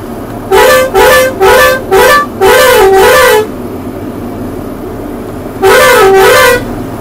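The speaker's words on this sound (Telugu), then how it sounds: "హారన్ కొట్టకుండా పోతే కథమే, మళ్ళీ ఉరికొస్తాయి." Loud vehicle horn honking on a night-time ghat road amid big trailer trucks, a quick run of five blasts followed by a longer held toot after a pause, over steady engine rumble.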